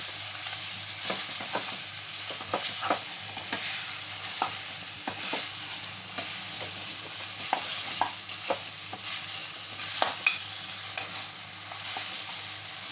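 A Godavari-style fish curry is stirred in a pan, with soft repeated scraping and clinking strokes over a steady low sizzle, close and fairly quiet with no voices.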